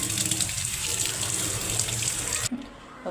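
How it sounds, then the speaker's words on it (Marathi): Kitchen tap running steadily into a sink as carrots are washed, a continuous splashing hiss that cuts off near the end. "पहिले गाजर धुवून घेऊया"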